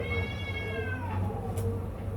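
A cat meows in a short, tonal, drawn-out call over a constant low hum, fairly quiet and heard alone.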